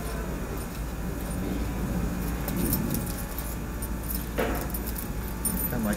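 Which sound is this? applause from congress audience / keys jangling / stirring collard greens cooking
keys jangling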